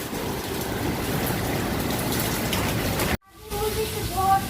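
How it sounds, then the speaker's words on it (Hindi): Steady broadband hiss of rain falling, with water leaking inside a home, continuing for about three seconds before a sudden cut, then returning with faint tones and a voice in the background. "अभी बारिश शुरू हुई है।"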